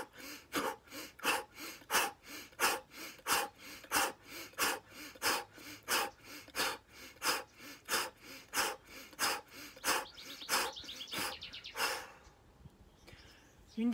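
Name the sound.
rapid energizing qi gong breathing through the mouth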